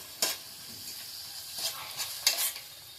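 Tomatoes fry in oil in a pan while being stirred, giving a soft continuous sizzle broken by a few brief scraping strokes of the spoon, close and without speech.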